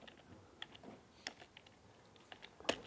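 Someone types a MATLAB command on a computer keyboard: a quiet, irregular run of close key clicks ending in a sharper, louder tap.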